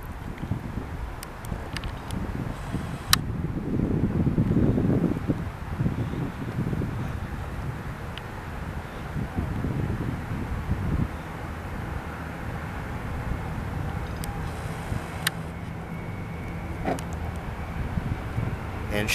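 A B-17F bomber starts its takeoff roll at Visalia Municipal airport, its engines a deep, distant roar under steady wind buffeting the microphone, swelling early and then fading slightly.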